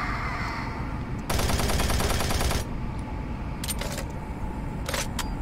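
Rapid automatic gunfire from a player's weapon in Doom 3, a dense burst lasting over a second, followed by a couple of shorter sharp bursts against a steady background drone.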